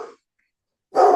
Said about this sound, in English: Can you hear the barking dog?